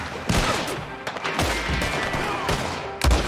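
Rapid gunfire in the Red Dead Online video game during a legendary bounty shootout, with several sharp shots and short bursts cracking over a few seconds.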